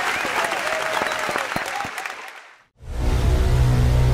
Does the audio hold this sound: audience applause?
yes